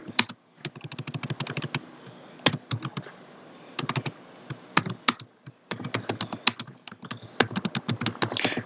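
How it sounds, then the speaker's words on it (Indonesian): Steady clatter of keys on a computer keyboard as a name is typed during a computing tutorial, arriving in quick rhythmic bursts separated by short pauses, close and fairly loud with no talking. "kemudian kalian bisa ngetik misalnya namanya siapa."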